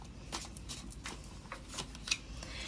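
Tarot cards are shuffled in quick, soft riffling bursts, a series of close, crisp flutters and light slaps with brief pauses between them.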